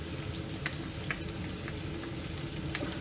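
Garlic dropped into hot oil that already holds onion, frying with a steady, dense sizzle and small crackling pops, close and continuous with no talking.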